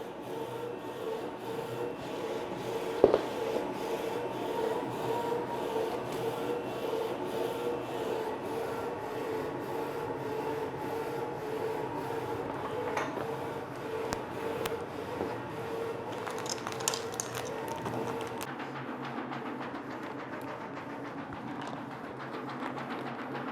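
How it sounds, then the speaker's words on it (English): An industrial Nebula-35F DTF printer's dusting system runs steadily with a low mechanical hum and rotary whirring, broken by a couple of brief clunks and a faint rustle near the end. "the dusting switch, open, then the top dusting system start to working, to rotary"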